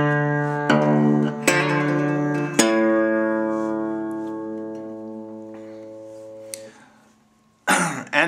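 Acoustic guitar phrase, a few plucked notes and strums ringing out with long sustain, then a quiet pause and a final brief strum, played alone.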